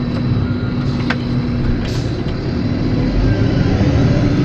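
A truck engine with a newly replaced injector idles steadily nearby, a continuous low rumble with a faint constant hum and no clear revving across the whole stretch.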